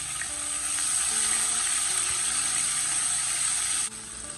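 Cumin seeds and ginger garlic paste sauteing in two tablespoons of hot oil in a pan, a loud, steady close-up sizzle that drops sharply near the end, no talking.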